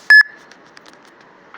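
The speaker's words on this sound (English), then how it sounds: "And I apologize for the loud beep." A loud, sharp electronic beep from a phone or charger sounds once, a short high tone, followed by faint clicks and another beep starting at the very end.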